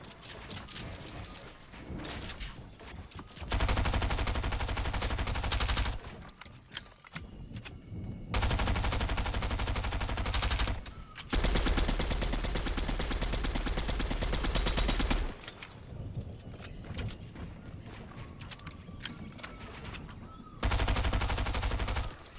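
Video game gunfire in a Fortnite-style chapter 3 match comes in long, loud bursts of rapid automatic fire separated by shorter gaps, dense and sustained across the stretch.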